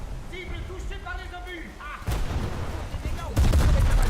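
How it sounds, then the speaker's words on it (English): Naval guns in a warship video game fire on a Gearing destroyer: two heavy booming salvos land close, the second louder and longer, after a few seconds of quieter ambient noise with faint voice-like tones. "As long as I have the lock on that gearing, I am going to shoot it."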